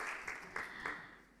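Brief patch of audience applause at a Sunday church celebration service, soft and slightly distant, with a few scattered claps standing out from a steady hiss of clapping.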